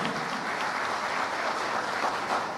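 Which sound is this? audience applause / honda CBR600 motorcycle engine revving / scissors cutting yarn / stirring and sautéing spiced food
audience applause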